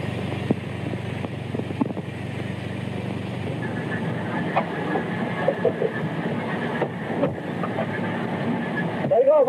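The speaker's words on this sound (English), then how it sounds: "we gotta get that train out of here quick" A train runs along the rails with a continuous, moderately loud rolling rumble and clatter, while voices speak briefly over it.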